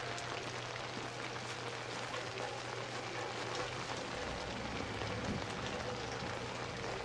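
Steady rain falls in the horror video game Outlast, a continuous dense patter of drops on surfaces with a low hum underneath and no speech.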